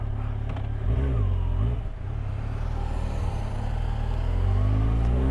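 A Yamaha FZ6R 600cc four-cylinder motorcycle engine runs steadily nearby and revs up and down in smooth swells, with a brief dip before climbing again, loud throughout with faint voices in the background.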